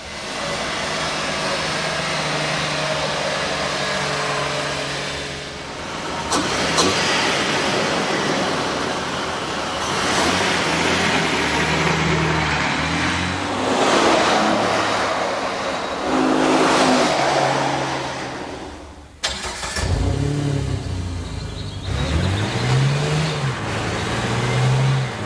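A motorcycle engine captured by onboard microphones under the hood, near the shifter and by the exhaust, revving loudly with rising and falling throttle sweeps, gear changes and a sharp drop near the end before revving again.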